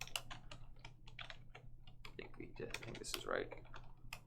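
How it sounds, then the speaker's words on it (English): Typing on a computer keyboard to enter a print command in a Lua shell, rapid clicky keystrokes in short bursts, close and fairly quiet, while someone speaks briefly over them. "I can now type print"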